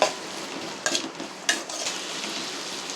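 Small onions sautéing in a pan for pepper chicken, a steady close sizzle of frying with a couple of sharp spatula scrapes and stirs against the pan.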